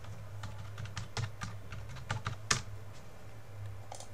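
Keys tapped on a computer keyboard while entering a password during an Outlook 365 sign-in on Windows, a quick irregular run of close, crisp clicks with one sharper press near the middle, over a low steady hum.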